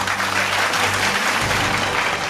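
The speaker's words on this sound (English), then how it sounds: "let's give them another thunderous round of applause" A conference hall crowd applauds the graduating batch of the Asia Pacific Leadership Conference, a dense, steady roar of many hands clapping, loud and sustained throughout.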